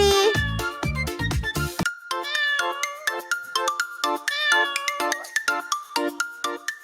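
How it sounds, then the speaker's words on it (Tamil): Kitten meows sound repeatedly inside a bright, chiming children's Tamil nursery-rhyme tune, with dense bursts at the start and then rhythmic short calls over the plinking melody. "மியாவ் மியாவ் பூனைக்குட்டி."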